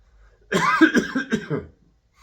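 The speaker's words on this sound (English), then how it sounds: "still got my cough when I talk too much." A short burst of harsh, throaty coughing up close, several rough hacks in quick succession lasting about a second, with no talking.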